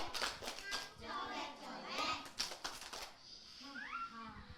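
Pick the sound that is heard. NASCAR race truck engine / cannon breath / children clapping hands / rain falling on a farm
children clapping hands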